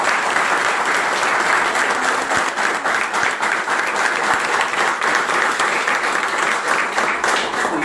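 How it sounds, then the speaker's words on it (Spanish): Sustained applause from an audience at a political talk and debate welcoming a speaker, dense steady clapping throughout, fairly loud and close, with no speech over it. "le damos la bienvenida al compañero con un aplauso"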